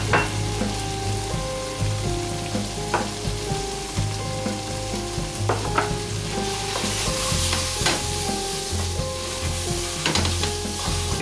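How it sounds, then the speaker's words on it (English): Onions, garlic, tomato paste and spices saute in a pan for a Libyan soup, giving a steady, close, crackling sizzle with occasional stirring scrapes throughout. "We've been sauteing our tomato paste and our spices for about a minute"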